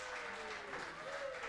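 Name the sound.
audience applause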